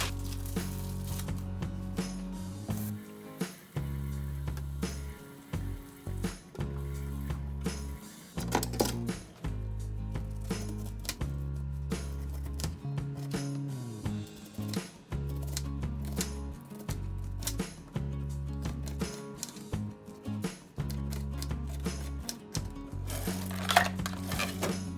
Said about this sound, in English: So we just gotta rinse our stuff as always, and then chop it up